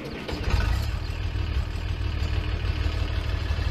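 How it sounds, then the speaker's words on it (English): International 806 tractor engine in Farming Simulator 19 turning over and settling into a steady low idle rumble, fairly quiet and close, with no talk. "Let's get over here and start this tractor up so you guys can hear it."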